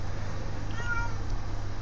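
A cat meows in the video game Minecraft, one short faint call over steady low background hum.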